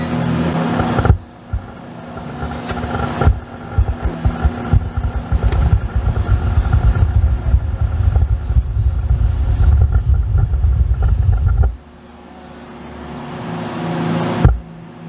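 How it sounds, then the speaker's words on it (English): A Honda Prelude's engine starts and runs close by in a loud, steady low rumble that throbs with bass, cuts out abruptly, then returns briefly near the end. "I'm just gonna turn on the freaking car again."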